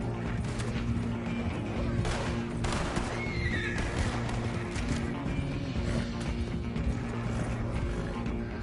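Horses whinny in the video game Red Dead Redemption 2 while being moved along a road, a clear neigh in the middle over constant galloping hoofbeats and steady ambient noise.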